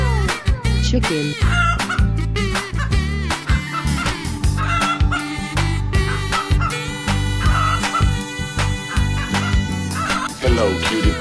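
Chicken clucking in a 3D animal slide video game, mixed into busy, loud game music with dense rhythmic beats and bright tones running throughout.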